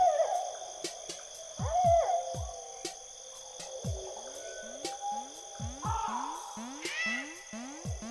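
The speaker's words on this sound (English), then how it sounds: "Baby bird's really chirping outside my window." Chirping from a baby bird outside a window, picked up faintly by a microphone: repeated hoot-like tonal calls sitting under steady game music and sound effects.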